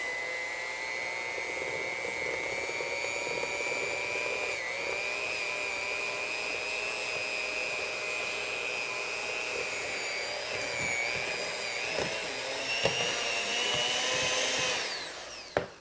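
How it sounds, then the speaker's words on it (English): An electric mixer beats a batter containing room-temperature cream cheese with a continuous close, whining motor drone that runs steadily for about fifteen seconds before stopping, with no talking. "Now we're going to use the electric mixer."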